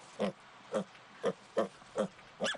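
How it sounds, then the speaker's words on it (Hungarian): A piglet grunts six times in a kitchen while being fed, each short oink evenly spaced about half a second apart, close and fairly quiet. "A konyhában etetek egy kis malacot."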